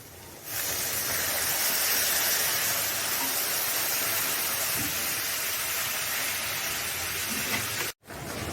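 Water poured into a hot pan of raw banana kofta curry bursts into a loud, continuous sizzling hiss close by, holding steady for several seconds before a brief cut.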